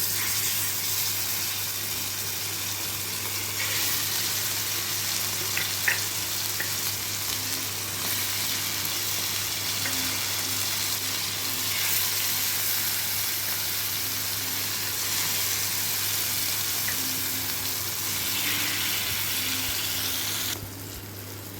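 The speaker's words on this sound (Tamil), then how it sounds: "இப்போ தோசைக்கல்லில் தந்தூரி எப்படி போடலாம்னு பார்க்கலாம்." Tandoori chicken sizzles steadily on a dosa griddle, a continuous close frying hiss and crackle that runs evenly throughout with no talking.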